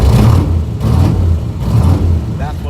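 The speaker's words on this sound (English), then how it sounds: "So that is what the car is like at idle." 1966 Corvette engine idling, a loud close low rumble with a lumpy pulsing rhythm, steady throughout and heard alone.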